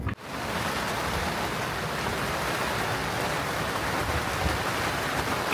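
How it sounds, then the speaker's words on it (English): Steady, dense rain pouring down continuously on a sailboat, a broad hiss of drops drumming on surfaces with no pauses or voices. "Rain break number 2, maybe 3. Just keeps raining."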